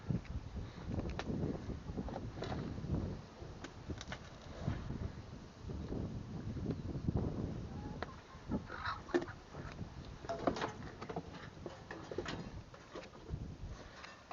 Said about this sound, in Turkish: Oo, rüzgar. Fena rüzgar.